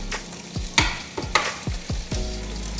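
Ham frying in a hot pan for a club sandwich: a close, loud sizzle broken by several soft thuds and shifts as the slices are moved, with no voices.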